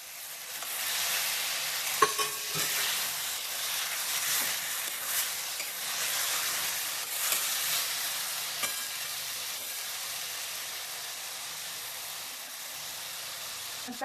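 Paneer sautéing in masala for a pulao, a steady close sizzle of frying with intermittent stirring scrapes and a few sharp clicks of a spoon against the pan, no voices.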